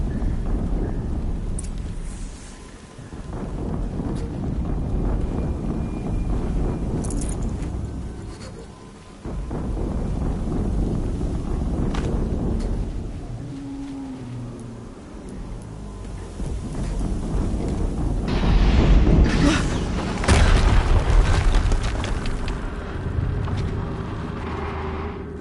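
Explosions rumble through the video game Horizon Zero Dawn, heavy low booms rolling like thunder over a constant rain-like hiss, swelling louder toward the end with crackling debris, no voices.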